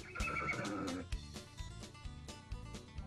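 A horse whinnies loudly at a horse show stadium at a state fair, a shrill neigh followed by a few hoof clops and scattered knocks nearby.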